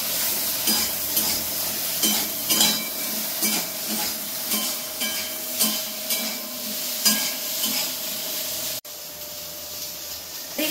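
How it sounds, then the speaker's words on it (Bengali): Steady frying crackle of salted okra in oil with repeated stirring and scraping in a pan, loud and close, pausing briefly near the end. "লবণ দিয়ে অল্প ভাজবো, তারপরে তো সবুজ সবুজ থাকবে তখন তুলে দেবো।"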